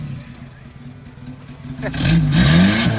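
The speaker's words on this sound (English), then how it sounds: "now give it a rev" A Toyota engine with a leaking head gasket revs up midway, a rising mid-pitched roar swelling loud and close after a quieter idle, with people talking over it.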